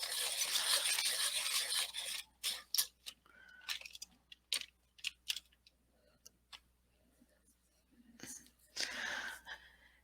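A Caran d'Ache Pablo colored pencil in medium red is sharpened in a quiet setting. Short, rasping scrapes come in uneven bursts, with a longer grinding stretch at the start and another near the end.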